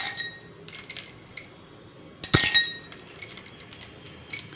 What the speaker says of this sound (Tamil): இப்போது செய் நான் ஐஸ் க்யூப்ஸ் எடுத்துக்கிறேன்.